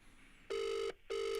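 A telephone ringback tone heard through a call: two steady electronic rings separated by a short pause, clear and fairly quiet, with no talking.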